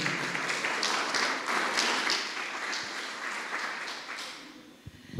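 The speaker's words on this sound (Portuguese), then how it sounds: "Vamos aplaudir o Senhor." A church congregation claps together in praise, a fairly close patter of many hands that swells and then gradually thins and fades toward the end.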